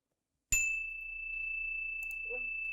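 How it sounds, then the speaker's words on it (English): One struck chime rings out clearly with a sharp attack and a long, steady sustained tone in a quiet room, with faint handling clicks near the end. "press start and hit the chime"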